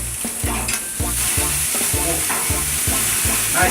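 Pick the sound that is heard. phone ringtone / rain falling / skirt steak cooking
skirt steak cooking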